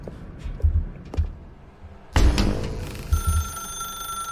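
Phone in The Stanley Parable video game rings with a bright electronic bell tone, preceded by muffled footsteps and thumps, then a sharp clatter before the ringing sustains clearly.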